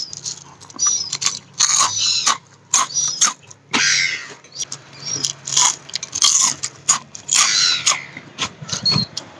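Crunchy food bitten and chewed close up, with a dozen or more sharp, crisp crunches in an uneven rhythm separated by short pauses.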